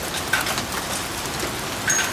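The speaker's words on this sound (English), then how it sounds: "These are huge hails." Large hail pounds down in a violent Tucson hailstorm, a dense steady roar of impacts with a few sharper, louder strikes standing out.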